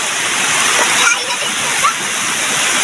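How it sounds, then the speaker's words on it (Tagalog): River water flowing along a riverbank, a loud, steady broadband rush with splashing close by and no break in the sound. "Ganda ng daloy ng tubig mga kaipis oh."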